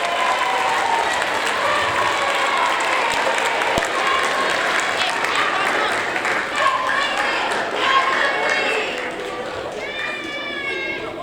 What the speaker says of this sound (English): Let's give one great big round of applause for Mark in grade 1